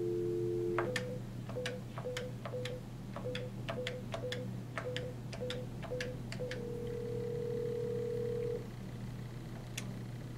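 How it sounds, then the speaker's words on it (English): A VoIP desk phone on speakerphone plays a steady dial tone, then eleven quick, evenly spaced keypad beeps as a number is dialed, followed by a longer tone; all faint and close. "press the new call soft key located under the screen, which will activate your speakerphone and then dial your number"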